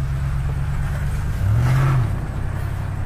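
A 1999 Ford F-150 pickup with a 5.4 engine and a gas leak idles with a steady low rumble, then revs briefly in one rising burst before settling back to idle; no talking.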